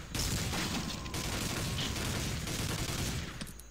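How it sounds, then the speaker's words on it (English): A barrel hit by gunfire in the shooter game Soldier of Fortune II, heard as a dense, loud, sustained roar of shots and blast that fills the whole stretch without pause. "that guy shot the barrel"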